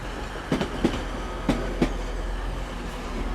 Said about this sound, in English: coming in now is going to be the 1107 Transpennine Express service to Liverpool Lime Street